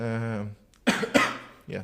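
A short vocal sound, then a pause, then a few sharp, close coughs in quick succession.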